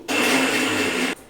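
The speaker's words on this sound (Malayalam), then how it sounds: "തണുത്ത് കഴിഞ്ഞിട്ട് അരച്ചെടുക്കുക" Kitchen blender grinding cooled, cooked tomatoes for soup, one loud steady whirring burst of about a second that starts and stops sharply.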